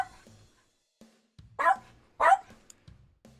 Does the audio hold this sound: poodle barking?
yes